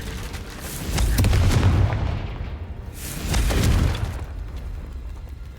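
The Confringo blasting spell explodes in the Hogwarts Legacy video game, sounding as two loud, booming blasts about two and a half seconds apart, each with a deep rumbling decay.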